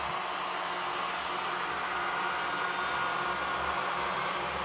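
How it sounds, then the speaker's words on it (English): Heat torch blowing steadily over wet acrylic pour paint, a constant loud roaring whoosh of hot air held close throughout, with no pauses and no voices. "now I won't forget I have my heat torch. Go over with it first."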